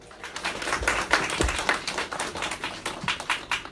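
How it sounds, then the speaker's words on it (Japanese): An audience claps for a performer about to play an original song at a small live music event, a moderate crowd applause with distinct individual claps, fairly close and unaccompanied by talk. "皆さん大きな拍手を。"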